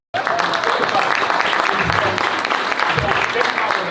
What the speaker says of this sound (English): Y'all give him a round of applause because he's here with us.